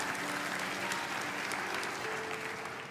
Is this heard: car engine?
no